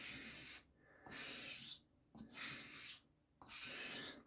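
A Puma Inox knife bevel being honed on a coarse 1K stone, with steady rasping, gritty strokes in a back-and-forth rhythm and short pauses between passes, close and quiet.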